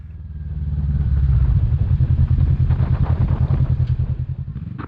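A Kawasaki Vulcan S 650 motorcycle engine thrums up to a loud, rapid pulsing chug during a ride on a windy day, then settles into a fluttering throttle rhythm with the exhaust beats clearly audible.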